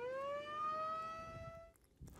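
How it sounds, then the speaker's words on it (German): On a ranch in New Mexico, a siren used to call horses to feed sounds once, a rising then steady wail that cuts off abruptly, faint and distant, followed by quiet rustling. "ertönt die Sirene, gibt es dort leckeres Futter für sie und die Herde kommt bereitwillig dorthin"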